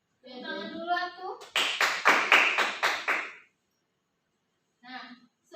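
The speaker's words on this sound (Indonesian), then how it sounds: "Tepuk tangan dulu atuh." Hands clapping in a classroom, a burst of several sharp claps lasting about two seconds, with children's voices before it and briefly afterward.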